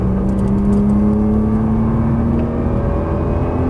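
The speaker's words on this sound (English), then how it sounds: "now unwind and accelerate all the way back out" A Nissan GT-R engine drones steadily and rises in pitch as the car accelerates out of a turn, loud and close from inside the cabin, with no talking.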